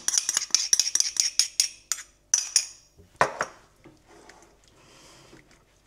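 A spoon stirs gelatin into melted milk chocolate in a bowl, ringing out in a quick burst of bright, close clinks that slow to a few knocks and then quieter scraping.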